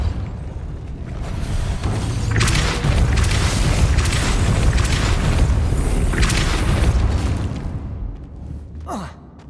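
A Depulso spell cast in Hogwarts Legacy, a long whooshing, booming blast with rumbling surges that swell and fade, ending in a short rising swish, loud and close.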